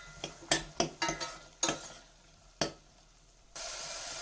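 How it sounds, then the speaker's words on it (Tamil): Onions sauté with ginger garlic paste in a pan for pepper chicken. A run of sharp spatula clinks and scrapes is followed by a soft, steady sizzle near the end. "வெங்காயம் சேர்த்துட்டு வெங்காயம் நல்லா கோல்டன் ப்ரௌன் ஆகிற வரைக்கும் வதக்கிக்கணும்"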